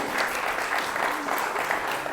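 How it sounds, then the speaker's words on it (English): Wedding guests at Cloverdale Barn in Winchester, Virginia applaud steadily in a dense, continuous wash of clapping that fills the room at close range. "Step 10, leave room for crowd reaction."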